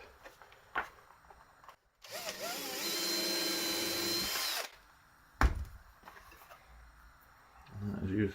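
A power drill bores through a sacrificial piece of wood beneath an axe handle in one steady whining burst of about three seconds, with handling knocks and clicks before and after.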